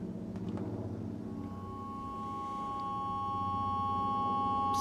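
Two high synthesizer tones from frequency modulation, summed together as steady sustained pitches over a dense lower drone, holding level and slowly swelling louder toward the end.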